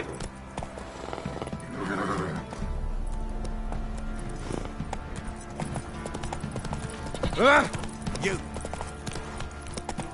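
Roach the horse gallops in The Witcher 3, with quick clip-clop hoofbeats and a loud whinny partway through; a voice briefly speaks over the game sounds.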